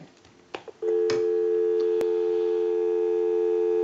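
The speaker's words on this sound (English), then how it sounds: "we'll go ahead and give you some dial tone" A few faint clicks and taps, then a steady, continuous telephone dial tone from a Northern Electric 233QF three-slot payphone hums on alone at moderate volume.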